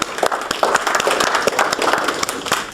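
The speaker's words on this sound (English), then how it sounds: "Round of applause for Candy." A small live audience claps for a volunteer in a short, lively burst of distinct close-by claps, uneven and loosely rhythmic.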